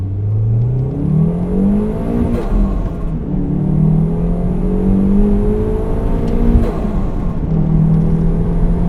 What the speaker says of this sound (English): we're going to go through the gears up the hill